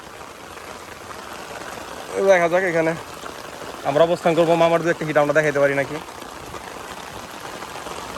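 Heavy rain pours onto open water at a fishing spot, a dense steady wash of noise running throughout while someone talks in two stretches over it.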